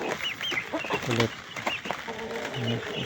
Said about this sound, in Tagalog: ito yung mga 2 months old mix Rhode Island and barred plymouth rock